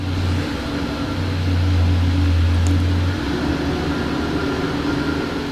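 A car passes outside a house, a low droning engine hum that swells and then fades over several seconds beneath a steady background hiss, with no voices.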